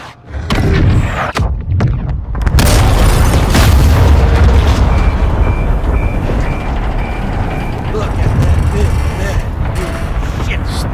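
A missile and an oil rig blow up in Call of Duty: Modern Warfare 2, a loud booming blast followed by sustained roaring rumble and mechanical noise, with faint beeping and brief radio voices.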